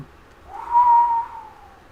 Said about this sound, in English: just whistling of wind